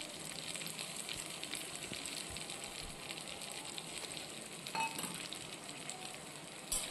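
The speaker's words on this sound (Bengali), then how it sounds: "সেই মিশ্রণটা আমি কড়াইতে দিয়ে দেব।" A paste of green chili, ginger and tomato frying in a wok of oil with whole spices, giving a continuous dense sizzle and a few faint utensil clinks.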